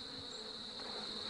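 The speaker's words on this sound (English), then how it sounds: "These are your native bees. They won't sting." Australian native bees buzz steadily in the bush, a close, continuous insect drone with no pauses, heard alone without talk.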